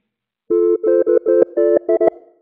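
A telephone tone pulses in seven short, loud bursts at a steady rhythm as an outgoing call is placed, then fades out with no voice.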